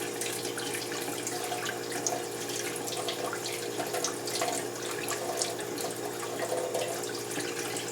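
Running tap water splashes steadily over the bristles of a crown brush as soap is rinsed out in a sink, a continuous close hiss with small fluctuations and no talking.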